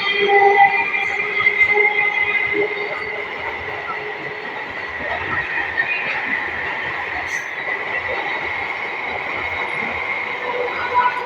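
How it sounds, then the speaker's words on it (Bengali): A train runs along the railway from Azimganj toward Malda, with a steady rumble of wagons and a high metallic wheel squeal that stays close and loud throughout. "আপনারা দেখেন ট্রেন আসছে, আপনারা সকলে দেখতে পাবেন।"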